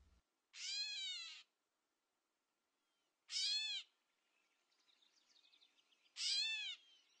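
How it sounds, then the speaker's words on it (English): Gray catbird giving three drawn-out, mewing cat-like calls, each about half a second to a second long and separated by pauses, clear and close, with faint softer chatter between the last two. "Some species don't even sound like birds. This is a catbird."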